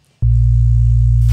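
A simple synthesizer sine wave run through Omnisphere's polyphonic bit crushing enters abruptly as a loud, steady, buzzy low tone with a gritty edge and holds unchanged, with a burst of hiss at the very end.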